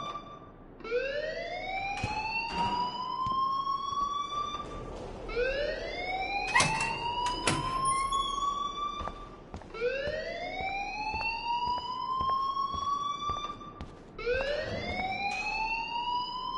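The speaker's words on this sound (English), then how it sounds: "please turn off that alarm since that's your job" An alarm in the video game Life is Strange wails loudly in repeated rising sweeps, four in a row, each climbing in pitch and then dropping back before the next begins, with no talking over it.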